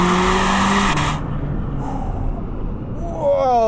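A Chevrolet Corvette ZR1 with large ceramic brakes stops hard, engine roar dropping away as the tires let out a loud rising squeal near the end.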